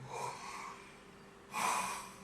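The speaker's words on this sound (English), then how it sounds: "If you're yawning, you go," A voice demonstrates a yawn as a vocal exercise, two soft breathy exhalations close to the microphone with a pause between them, the second louder and airier, with no words.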